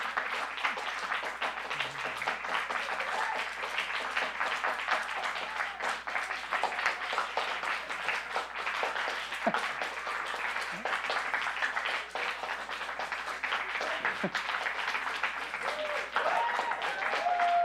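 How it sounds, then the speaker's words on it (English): A group in the audience at a Torrance city council meeting claps and yells to disrupt proceedings, a steady, dense mix of clapping and crowd noise running the whole time at moderate, roomy distance. "You may not yell out and clap like that to disrupt our meeting."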